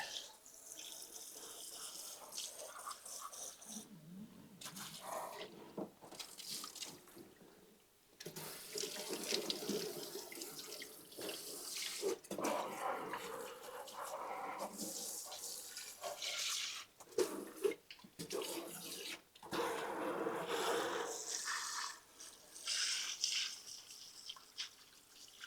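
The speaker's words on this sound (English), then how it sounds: "Drain the water down." Water drains off a surface grinder in a shop, a continuous splashing, trickling flow with brief pauses and dripping, fairly close and alone.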